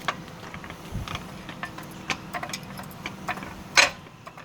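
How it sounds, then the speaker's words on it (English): A 3-ton Pittsburgh aluminum floor jack raising an ATV's rear end, with irregular ratcheting clicks and mechanical knocks, a sharper clunk near the end, close and fairly quiet with no speech. "the reason I brought the floor jack out is so I can lift this rear end up a little bit"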